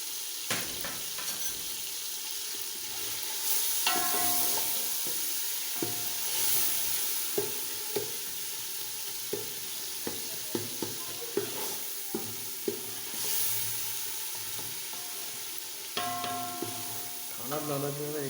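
Ginger garlic paste sizzles in a hot pan, frying steadily while a utensil stirs and scrapes it in irregular clattering knocks, with faint running water now and then and no speech.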